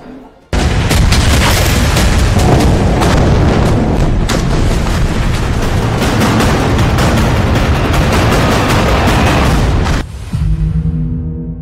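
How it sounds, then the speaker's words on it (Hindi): A barrage of heavy booming explosions from bombing in Gaza rolls on almost without a break, loud and dense, with deep rumbles and crackling bursts for about ten seconds before easing briefly at the end. "इजराइल गाजा में हमास के ठिकानों पर जबरदस्त बमबारी कर रहा है"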